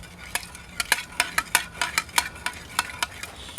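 A spoon stirs food in a metal camp pot at a 1944 Normandy living-history camp, giving a quick run of about a dozen sharp scraping clinks, close and steady, with no voices.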